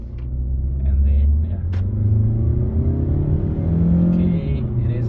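A Mazda CX-5 2.0 automatic engine hums and rises in pitch, revving up twice in steady surges, close and fairly loud with a deep rumbling undertone.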